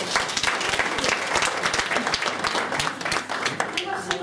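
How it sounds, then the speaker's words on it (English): Audience applause fills a small hall after a question session at a crystal pendulum event in Fochabers, a steady burst of many hands clapping throughout, fairly close and lively, with some voices mixed in. "Can we give her a little round of applause?"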